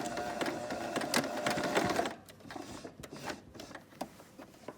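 A sewing machine back-tacking a torn pant pocket seam runs in a fast buzzing whir for about two seconds, then stops, leaving softer scattered clicks and handling sounds.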